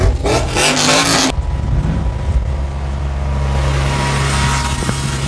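A loud truck engine roars close by, a heavy sustained rumble with a harsh burst at the start that settles into a steady, droning idle.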